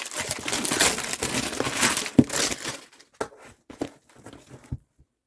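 Crinkling plastic wrap being torn off a K-pop special album, loud and continuous at first, then thinning into a few sparse rustles and crackles.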